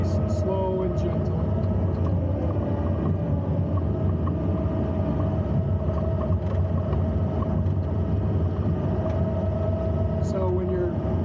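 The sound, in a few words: Takeuchi TL12 V2 track loader engine running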